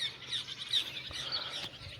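A tied-up bird on a farm gives thin, high chirping calls in short repeated bursts, fairly faint against a quiet outdoor background.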